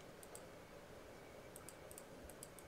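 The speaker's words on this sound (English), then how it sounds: "As he's typing." Quick bursts of typing on a computer keyboard, faint light clicks arriving in short irregular clusters over a low steady background hum, with no voices.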